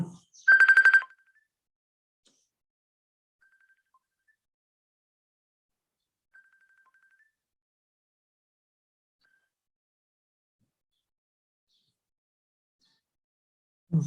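Phone ringtone during an online Zoom class, a single brief bright electronic ring burst near the start, then near silence with faint blips, ending with a short low sound.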